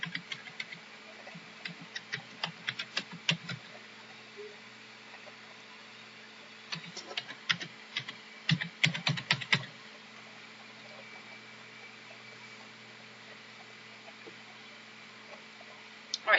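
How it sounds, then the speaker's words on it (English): Keys tapped on a computer keyboard in short irregular bursts separated by quiet pauses, light and clicky, as an email and password are entered, over faint room hum. "You go ahead and type in your email and your password that you chose when you set up your account."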